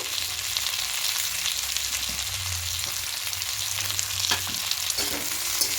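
Fried cauliflower and potato sauté with spices in a little oil in a pan, sizzling steadily up close while a spoon scrapes and stirs in occasional bursts.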